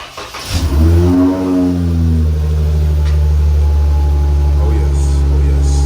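A 2014 Dodge Charger cold-starts with a cranking catch, the engine flaring up in a loud rev before settling into a steady, deep, close idle that keeps running.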